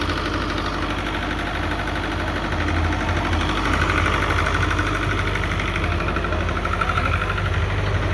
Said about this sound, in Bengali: ওই যে ইঞ্জিন চলছে।